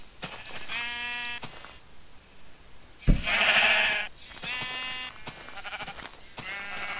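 Minecraft sheep bleating repeatedly as it takes damage while standing in fire, four or five short nasal bleats spaced out over several seconds, moderately loud with no other sounds between them.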